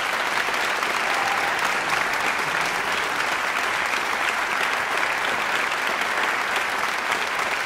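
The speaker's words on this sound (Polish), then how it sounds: "Czy ja mogę prosić o brawo dla tych młodych dżentelmenów?" Steady, dense applause from a concert hall audience for young saxophonists of a saxophone orchestra, continuous and even throughout with no voices over it.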